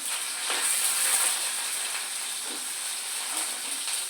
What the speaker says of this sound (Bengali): তো তেলটা ভালো গরম করে নিয়েছি, এবার আলু দিয়ে দিলাম।